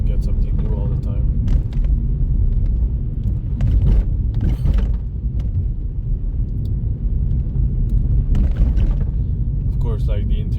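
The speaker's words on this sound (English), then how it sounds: "the interior in this car, as you can hear, is like all flopping around and everything's loose because it's all plastic" Loose plastic interior panels of a small economy hatchback rattle and flop around while driving, a steady low road rumble underneath with intermittent clattering ticks throughout; a voice talks over it.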